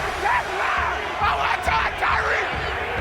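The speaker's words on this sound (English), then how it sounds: "The crowd chanting Tyreek, Tyreek as Hill takes it." A packed NFL crowd at Arrowhead Stadium in Kansas City chants a player's name in loud, rhythmic two-syllable waves, huge and echoing across the stands.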